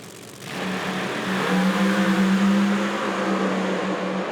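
Outlaw Pro Mod drag race cars launch together in a final round, a loud sustained engine roar with a steady droning tone that swells after a brief quiet start and holds strong to the end.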